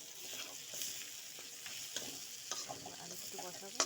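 Spice paste of cumin, turmeric and salt being stir-fried with fish in a pan: soft continuous sizzling with repeated scraping and stirring scrapes from a spatula, close and fairly quiet, no talk.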